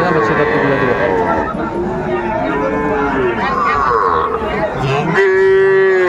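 Sahiwal bulls and cattle moo loudly and repeatedly, long drawn calls overlapping at a busy cattle market, with someone speaking over them throughout.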